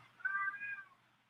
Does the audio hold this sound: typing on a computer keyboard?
no